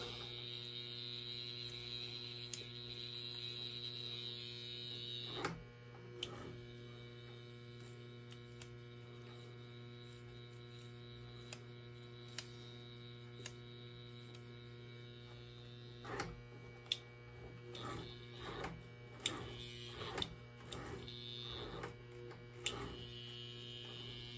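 An old model train motor sits under power, giving a steady, faint electrical hum with scattered small clicks and ticks throughout. No one speaks.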